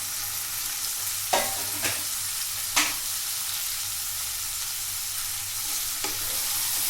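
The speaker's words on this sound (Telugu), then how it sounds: "ఇప్పుడు చిక్కుడు ముక్కలు వేయండి." Broad bean pieces go into a hot pan and are stirred, producing a constant sizzle punctuated by several sharp scraping strokes and clinks.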